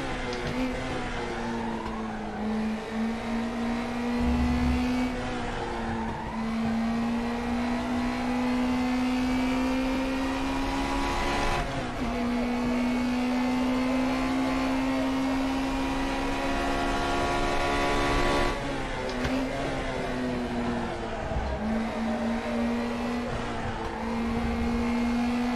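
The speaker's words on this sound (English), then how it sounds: "Your engine's running a bit rough" Race car engine in a racing video game running rough, a steady loud drone with a strong low tone that holds throughout, dipping briefly at a few points as it shifts or lifts, with no talk.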